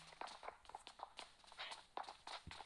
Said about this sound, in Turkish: Evet bir ayak sesi var.